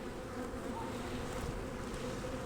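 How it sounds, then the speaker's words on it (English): Dense, steady buzzing of agitated honeybees swarming close around an open hive, a continuous droning hum with no speech. "These bees are a little testy."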